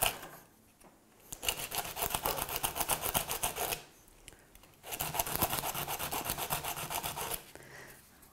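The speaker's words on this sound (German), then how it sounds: "Ich fange zunächst mit grobem 40er oder 60er Schleifpapier an." A small round wooden disc is sanded by hand with coarse 40 or 60 grit sandpaper, two long bursts of fast, rhythmic scratchy rubbing separated by a short pause, close and clear.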